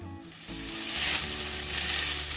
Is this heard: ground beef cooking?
yes